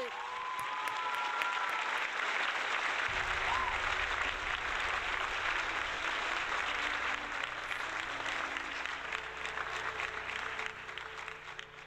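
Sustained applause from a crowd, loud and steady for several seconds before gradually tapering off.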